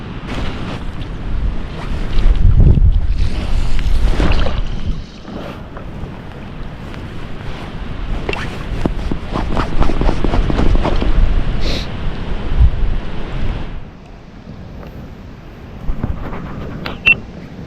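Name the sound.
wind blowing over a river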